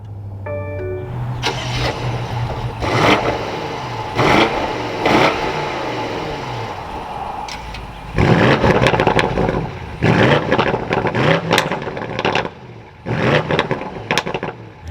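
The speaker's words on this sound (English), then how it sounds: "let's bring this to life and hear what it sounds like" A 2024 BMW M850i xDrive Gran Coupe fires up with a starter whir and a loud catch, settles into a close idle, then gives a series of sharp throttle blips and revs.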